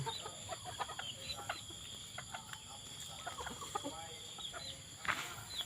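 A yellow bantam hen in a free-range yard gives soft, scattered clucks over steady insect buzz outdoors, with a sharper burst near the end.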